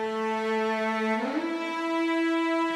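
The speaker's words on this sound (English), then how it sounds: "so I played them with a portamento articulation" Sustained strings hold a note, then glide smoothly upward to a higher pitch and settle there.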